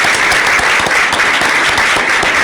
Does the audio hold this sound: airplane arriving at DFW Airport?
no